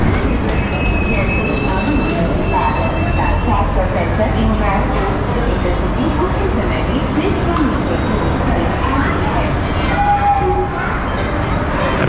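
A passenger train running in India rumbles loudly and continuously up close, its wheels squealing against the rails over the steady roar.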